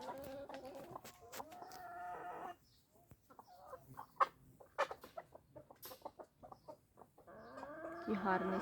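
Backyard hens wearing anti-pecking spectacles, with young chicks being mixed into the flock, give loud bursts of clucking at the start and end. Sparser clucks and scattered pecking sounds fill the quieter middle.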